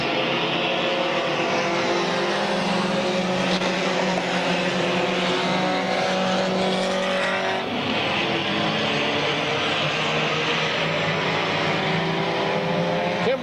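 Race cars at Midvale Speedway in Ohio roar by loud and close, their engines droning and rising and falling in pitch as they power off the front stretch, with no talk.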